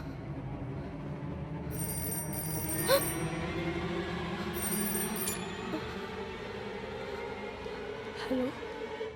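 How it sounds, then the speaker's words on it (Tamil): A telephone rings in an old house in a ghost thriller, giving two faint trilling double bursts a few seconds apart over a quiet, humming room tone with soft background sound. "ஃபோன் ரிங் ஆச்சு"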